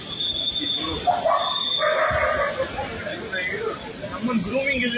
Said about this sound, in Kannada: ಈಗ ನೀವು ನೋಡ್ತಿರೋಂಥದ್ದು ಚೌಚೌ ಜಾತಿಯ ನಾಯಿ ಆಗಿರುತ್ತೆ.